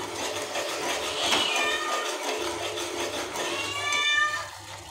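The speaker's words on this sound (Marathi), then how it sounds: "हे मांजर तर माझ्या मध्येच येते कधी पण" A cat meows repeatedly in a home kitchen, several drawn-out, fairly close cries spread across the moment, with faint household background noise and no speech.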